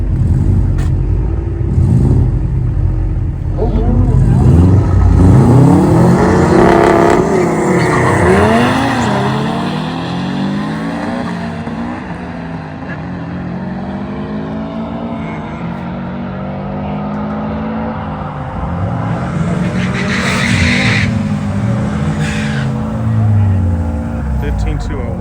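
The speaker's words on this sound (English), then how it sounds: "Mustang right there is TC Coyote twin turbo" A twin turbo Coyote-engined Mustang on Hoosier tires makes a drag racing run, its engine loud and close as it revs and climbs through rising and falling pitch sweeps, with people talking over it.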